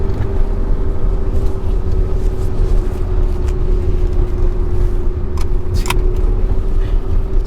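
A Porsche 918 heard from inside the cabin as it drives, a loud, steady low engine and road drone with a constant hum and a few brief clicks.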